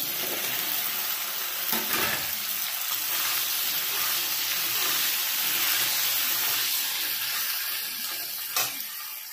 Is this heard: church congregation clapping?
no